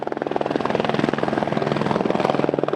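A water-bombing helicopter's rotor thumps steadily and loudly, a continuous chopping drone with engine whine, no voices.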